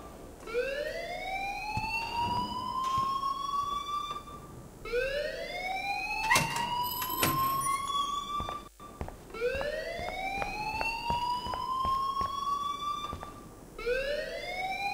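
Fire alarm ringing in the Life Is Strange video game: a loud, steady electronic whoop that sweeps upward in pitch and repeats about every four seconds, with some faint sharper clicks in between and no talking.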